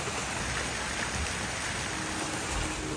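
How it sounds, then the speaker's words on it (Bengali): Heavy rain pours steadily onto a road outdoors, giving a dense, constant wash of noise with no pauses. "বৃষ্টিটা বেশ ভালোই জোরে জোরে পড়ছে।"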